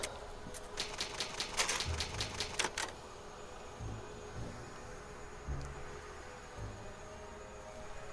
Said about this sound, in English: It's an old typewriter, you can save your progress.